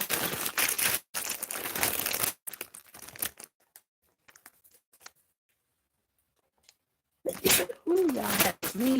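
A sneeze bursts out, followed by a short quiet stretch, then a voice with rising and falling pitch breaks in.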